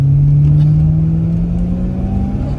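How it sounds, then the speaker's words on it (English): A 1981 Chevrolet Corvette's V8 engine drones steadily at close range while driving, a loud, smooth low rumble with pitch rising slightly as it revs. "Here's that V8 sound."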